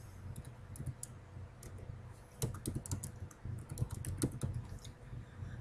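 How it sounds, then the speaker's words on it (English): Computer keyboard typing, a burst of irregular key clicks that speeds up partway through, close and clear against a quiet room hum with no speech. "Type in the name ProDg"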